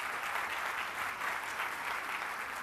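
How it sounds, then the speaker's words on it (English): Sustained applause from a large conference audience of around a thousand people, dense steady clapping that fills the room evenly throughout without pause. "So a huge round of applause for each and everyone out here."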